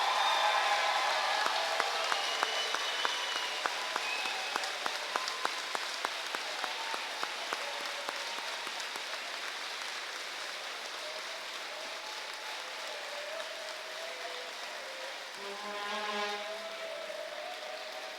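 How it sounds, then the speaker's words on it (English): A graduation crowd gives the class of 2022 applause, a sustained bed of clapping that slowly fades, with a few sharper claps standing out early and a brief murmur near the end. "Give one more round of applause for the class of 2022."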